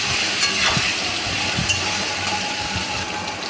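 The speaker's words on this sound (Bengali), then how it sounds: "টমেটো কুচি দিয়ে দিলাম কাঁচা লঙ্কা কুচি দিয়ে দিলাম সমস্তটা দিয়ে আমি ভালো করে নাড়িয়ে চাড়িয়ে ভেজে নিচ্ছি" Chopped tomato and green chilli stir-fried in a pan for a vegetarian ghugni, giving a steady sizzle with scraping stirs and a few light utensil clinks throughout, close and without talk.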